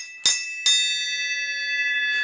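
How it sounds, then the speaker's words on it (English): A bell rigged between a house and a garage is struck twice, about half a second apart. Its bright metallic tone rings on and slowly fades in a quiet setting. "How about I just ring the bell again?"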